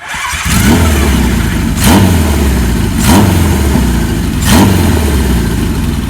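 A 1978 Kawasaki KZ1000 LTD motorcycle engine runs close by, settling into a steady idle broken by four evenly spaced throttle blips that each swell and fall away, with no voices.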